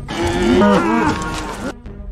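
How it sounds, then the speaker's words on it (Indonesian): A cow gives a single long, loud moo close by that bends in pitch before cutting off abruptly, followed by brief quiet. "Mirip kayak suara sapi dalam bahasa Hawaii ya"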